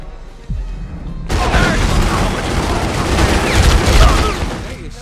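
Heavy gunfire in The Godfather 2 video game: after a quiet start, a loud, sustained volley of rapid overlapping shots and booms erupts and keeps roaring through to the end.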